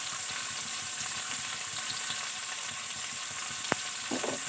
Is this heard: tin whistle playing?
no